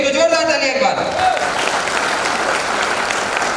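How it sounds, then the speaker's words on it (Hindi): Loud, dense audience applause at a business seminar, steady and sustained after a brief stretch of talk at the start. "तो जोरदार ताली एक बार"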